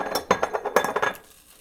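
Eggs cracked against a bowl or pan rim while making Christmas breakfast: a rapid series of about seven sharp, clinking taps, close and bright, stopping abruptly.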